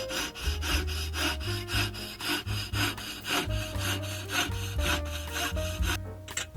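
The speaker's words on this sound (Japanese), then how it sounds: "ルーバーの運転室側を細く切り抜きます。" A hand saw cuts a louver section out of an old Katsumi KiHa 82 model train, with steady, rhythmic back-and-forth rasping strokes. The sawing is close and continuous for the whole stretch, with no talking.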